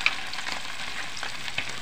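Daing, dried fish, fries in a pan with a steady, even crackling hiss and a few sharper pops, close and moderately loud.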